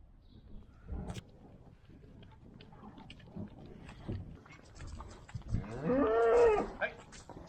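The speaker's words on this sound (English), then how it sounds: "You see Dad's moving some cattle over there." Cattle low on a farm, with one drawn-out moo rising clearly near the end, scattered thumps and shuffling before it, and a faint voice in the background.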